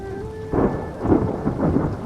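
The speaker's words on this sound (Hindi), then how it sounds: "बारिश देखो कितनी तेज हो रही है।" Heavy rain pours steadily while low rumbles of thunder roll underneath, loud and close.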